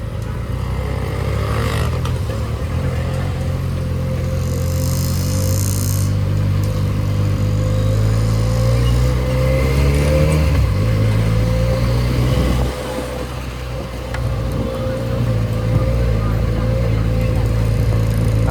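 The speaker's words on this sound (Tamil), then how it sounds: "இது வந்து எக்ஸாஸ்ட்லாம் எதுவுமே மாற்றலை, ஸ்டாக்கே தான் இந்த சவுண்டு." A Benelli 300 motorcycle with its stock exhaust idles and revs, its low, steady engine drone rising and falling in pitch throughout, with talk over the top.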